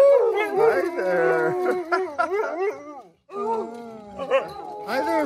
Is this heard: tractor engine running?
no